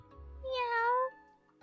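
In the game Everdeep Aurora, a cat gives a single short, clear meow, rising then falling. Only faint low background sound surrounds it.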